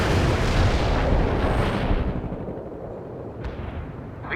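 Artillery in World in Conflict, heavy booming shell fire with rolling blasts that decay into a rumbling tail, followed by a sharper distant crack, loud and with no voices.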